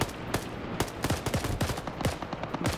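.50 cal machine gun fire in the Vietnam war game SOG Vietnam, a rapid string of sharp, close bursts repeating steadily across the moment with no voices.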